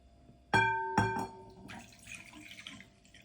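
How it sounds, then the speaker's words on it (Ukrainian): Two sharp ringing clinks are followed by a soft, steady splashing as hot water is poured into flour for chebureki dough, close and fairly quiet. "Заливаємо трошки гаряченьку водичку"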